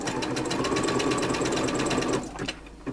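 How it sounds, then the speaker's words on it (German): A domestic sewing machine runs an overlock stitch on stretchy fabric, a loud continuous fast mechanical whirr for about two seconds before it stops and leaves a quieter tail. "Ich nehme den Overlockstich auf meiner Nähmaschine."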